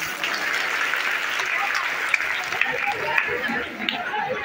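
A crowd applauds loudly and steadily at a Shrimad Bhagavat Katha festival in Sardho village on its fourth day, with dense clapping and a few sharper claps standing out amid faint crowd chatter.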